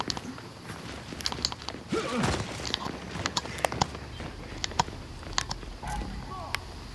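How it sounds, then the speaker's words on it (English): Footsteps patter in the Gears of War 5 video game, a quick uneven run of steps under a busy game soundscape, with a voice talking over it. "I hear footsteps."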